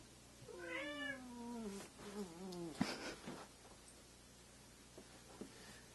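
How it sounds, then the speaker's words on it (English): A house cat meows in a long, wavering cry, followed by a shorter meow, close by, with faint rustling afterward, indoors during a CPU cooler installation. "Sorry about my cats."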